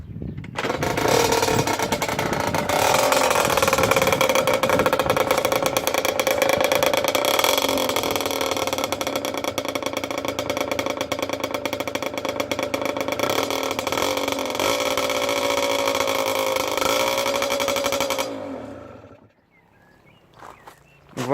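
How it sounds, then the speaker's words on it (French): A car engine fitted with a high-mount exhaust pipe revs steadily and loudly outdoors for a long stretch, a sustained droning roar that cuts off near the end, leaving quiet. "on se retrouve à l'extérieur pour le test du pot passage haut"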